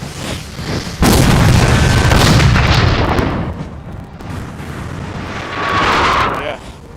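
Artillery cannon fire in Napoleon: Total War, a heavy boom landing at one second and rolling on for a couple of seconds, then a softer rumble later, with voices talking over the battle.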